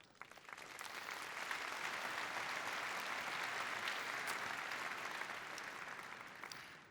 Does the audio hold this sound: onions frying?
no